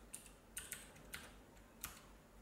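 Fingers typing a password on a computer keyboard, five or six quiet, distinct key clicks spaced irregularly over a couple of seconds in a hushed room.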